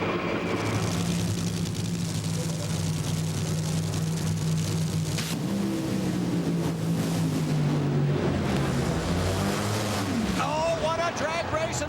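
NHRA drag racing cars roar down the strip at a 2005 national event, a loud continuous engine drone with rising and falling pitch that stays steady throughout, heard under a commentator's voice.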